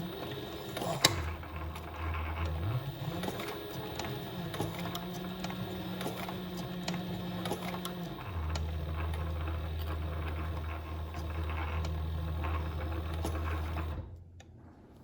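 A sewing machine runs steadily for about fourteen seconds with a loud mechanical whir, its motor pitch shifting between stitching speeds as it sews backward, with a sharp click near the start and the motor stopping abruptly at the end.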